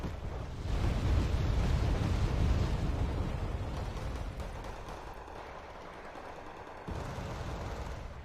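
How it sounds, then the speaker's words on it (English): Fallschirmjäger infantry in Wargame: Red Dragon firing G11 rifles and an MG3 machine gun, a dense continuous rumble of gunfire and distant blasts, heavy and sustained without pauses. "The Fallschirmjäger with the Hermann G11 and the MG3. They're just melting units away."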